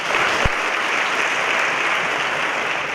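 Continuous applause from an audience at a middle school 8th grade awards night, a dense even patter of clapping with one sharp thump near the start, sustained for several seconds.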